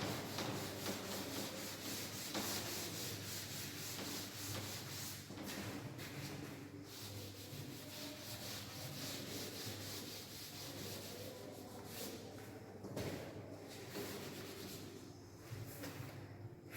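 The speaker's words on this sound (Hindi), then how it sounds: "मैं इसे रब कर रहा हूं।" An eraser or duster rubs a drawing off a board in steady, continuous scrubbing strokes, close and moderately loud, with brief pauses between passes and a low hum beneath.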